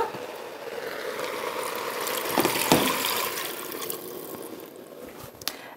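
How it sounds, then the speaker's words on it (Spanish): Water poured into a cooking pot of chicken for Moroccan chicken briouat, a soft, continuous splashing pour, fairly quiet and close, with no talking. "Ahora me voy a añadir el agua."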